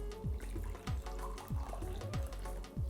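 Homemade masala chai is poured into a cup, a soft continuous liquid stream with faint trickling, quiet and close, under a steady low rhythmic thumping background hum.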